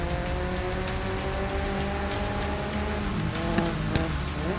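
Race cars in GRID Legends drone with layered engine tones that climb and shift as they rev through gears, a dense, continuous roar with faint tire noise and no talking.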